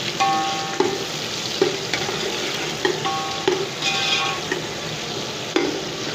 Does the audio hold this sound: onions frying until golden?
yes